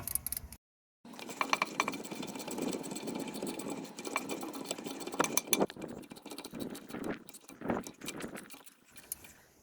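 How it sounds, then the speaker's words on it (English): A bolt is tightened on a Kia Ceed rear brake caliper, a steady ratcheting whir with rapid, uneven clicks and bumps, close by and continuing for several seconds. "Right, so just going to tighten the bottom bolt."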